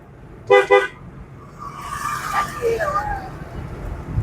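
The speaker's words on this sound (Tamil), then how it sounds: "ஹார்னடி" A car horn gives two short honks in traffic during a driving lesson, loud and close, followed by a driver speaking over the steady low rumble of the road.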